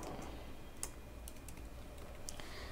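Soft, close clatter of a computer keyboard as code is typed, with a few light scattered keystrokes and a couple of sharper taps over a quiet background hum, without speech.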